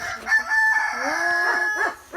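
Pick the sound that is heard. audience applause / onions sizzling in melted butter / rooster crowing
rooster crowing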